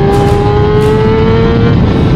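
Loud, close engine of a Yamaha R6 sport motorcycle at a race circuit, a high, tight whine that climbs slightly in pitch as it revs, with no talking over it.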